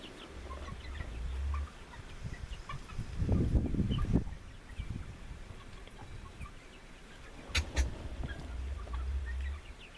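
Orloff chickens cluck softly while foraging at a dust spot beside a house, with scattered short calls and a brief louder burst of scratching and clucking in the middle.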